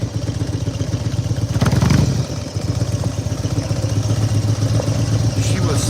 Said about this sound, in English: They love the sound of my motorcycle